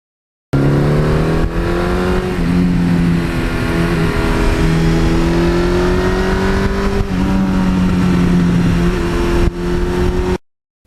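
A 1982 Suzuki GS1100E air-cooled motorcycle with a 1986 exhaust rumbles loud and close, holding a steady throaty drone with slight pitch shifts as the throttle rises and eases, alone without talk.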